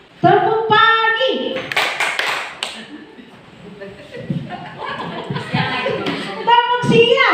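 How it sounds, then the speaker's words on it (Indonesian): Indonesian teachers in a classroom-style session clap in short rhythmic bursts during a morning-themed clap game, mixed with chanted voices and talk; claps come close and fairly loud in quick clusters. "Tepuk pagi."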